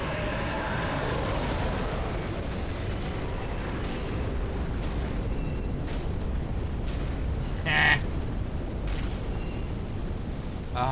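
A creature breathes fire in Dark Souls 3 with a sustained, roaring, rumbling blast that holds steady for about eleven seconds, with a few faint clicks and a brief sharper flare near the end.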